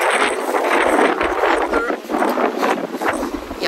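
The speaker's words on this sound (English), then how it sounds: "It's actually super windy today" Strong wind buffets the microphone in a continuous, rumbling roar with gusty surges and no clear talk.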